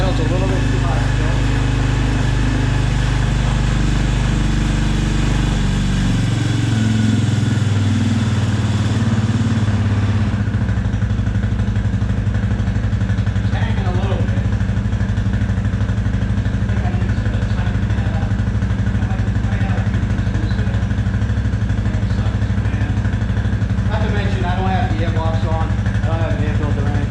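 Suzuki LTZ250 ATV from 2004, its single-cylinder engine idling a little too high, a steady close putter that drops in pitch partway through and carries on alone for nearly half a minute.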